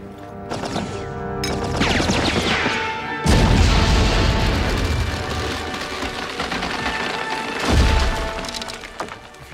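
A grenade blast in a World War I trench battle scene: loud, close booming explosions with splintering debris, a heavy thud near the start and another big boom later, amid continuous battlefield rumble.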